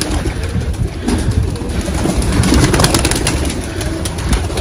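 Pigeons cooing steadily nearby, soft repeated throaty calls over a constant outdoor hiss, with no talking.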